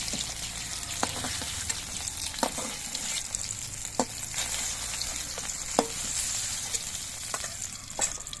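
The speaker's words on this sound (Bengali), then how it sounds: "আমি যে উচ্ছেটা ঝোলে দেওয়ার জন্য নিয়েছি সেই উচ্ছেটাও আমি ভেজে নিচ্ছি" Bitter gourd pieces frying in oil give a continuous close sizzle punctuated by sharp spatula taps and scrapes every second or so, with no one speaking.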